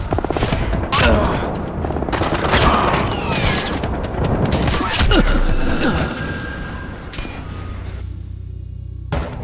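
Gunfire in the Splinter Cell Blacklist video game: sustained bursts of automatic shots and booming impacts, loud and dense throughout, fading near the end before a final thud.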